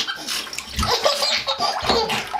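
A small child splashes in bathwater, with continuous sloshing and splattering close by and bursts of laughter mixed in.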